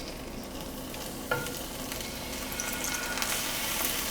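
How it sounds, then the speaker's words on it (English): A pork tenderloin sears in a preheated pan with a steady, loud sizzle and a single clunk early on as the meat settles, close-up and without speech. "You're gonna hear that sizzle and sear."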